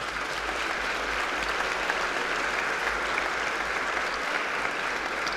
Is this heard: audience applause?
yes